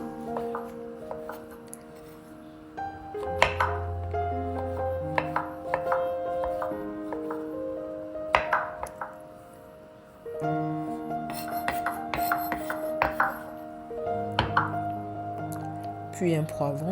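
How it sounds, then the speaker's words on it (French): Two button mushrooms being cut into small pieces with a knife, irregular knife taps on a board scattered through the clip beneath a continuous talking voice and background music. "j'ai 2 champignons de Paris que je vais découper"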